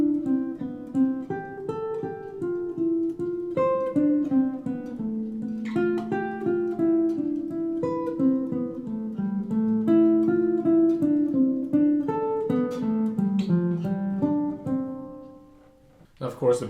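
Solo guitar playing a little counterpoint melody over a bass note: single melody notes move above a sustained low line in a gentle, even passage, fairly quiet and close, with no talking.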